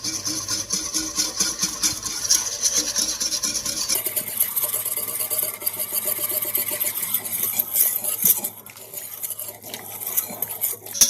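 A whisk beating xanthan gum into gravy in a pot, fast rhythmic metallic clinking and scraping close up, continuous throughout and briefly softer near the end.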